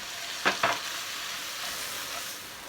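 Leeks and tomatoes heat in a pan with spaghetti squash, giving a soft, steady sizzle with two quick stirring scrapes near the start, fairly quiet and with no talk.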